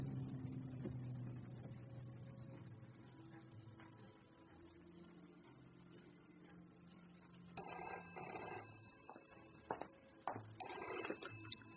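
A telephone rings in a radio drama, its bell trilling in short repeated bursts over a muffled, low background after a quieter opening stretch.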